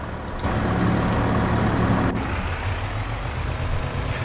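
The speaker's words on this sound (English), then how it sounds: "I'm going to go jump in that truck and watch it go through the trees." Truck in Farming Simulator 22 driving through trees, a steady low engine drone with a brief sharp click partway through and a faint high chirp near the end.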